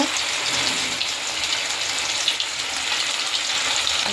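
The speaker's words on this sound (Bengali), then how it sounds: "এই দেখো ভাজবো এখন চিকেনটা" Chicken pieces for chilli chicken fry in a pan, making a loud, continuous, dense sizzle that holds steady throughout with no voices.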